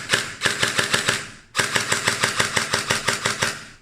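A JingJi SLR CQB airsoft rifle on an 11.1 volt battery fires on semi-auto in two quick strings of mechanical shots. Each shot is a steady, rapid, close-up clack-whirr, with a brief pause between the strings.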